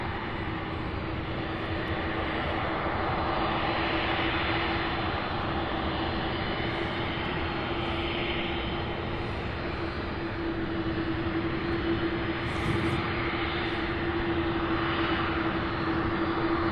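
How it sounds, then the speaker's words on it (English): An Airbus A300-600 taxies at Louisville International Airport, its jet engines giving a steady, loud, continuous roar with a sustained whine throughout, and no talk over it. "So this one's taxiing in, and look at that. They are still pushing that A306."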